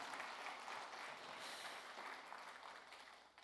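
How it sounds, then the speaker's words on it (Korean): An audience at the opening ceremony of a conference applauds in a large hall, a steady wash of clapping that sounds somewhat distant and soft, tapering slightly toward the end. "박수 부탁드리겠습니다."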